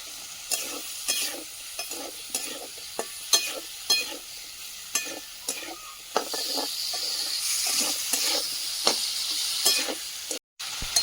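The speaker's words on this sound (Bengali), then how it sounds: "মশলা রেখেছিলাম সেই পাত্রটা দিয়ে হালকা জল ওর মধ্যে দিয়ে দেবো কেটে রাখা আলুগুলো" Water and cut potatoes go into a pan of frying spices, giving a steady sizzle and hiss with repeated scraping stirs, loud and close.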